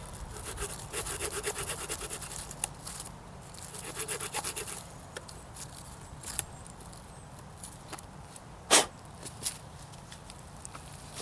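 A Stanley hammer/axe multi-tool's short saw blade cuts a quick notch in wood, making rapid scratchy rasping strokes that repeat unevenly, close up, with one sharper knock near the end.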